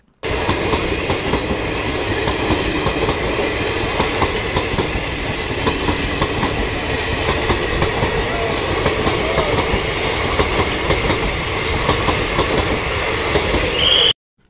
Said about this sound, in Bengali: অপর দিক দিয়ে অর্থাৎ লালগোলার দিক থেকে আর একটা ট্রেন 3 নম্বর প্ল্যাটফর্মে ঢুকলো।